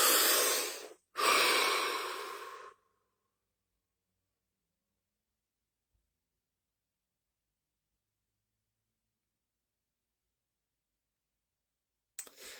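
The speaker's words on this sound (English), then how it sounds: "Deep breath." Two deep breaths drawn close to the mic during a guided core session, each a long airy rush of a second or two, followed by nearly ten seconds of silence and a brief breath at the very end.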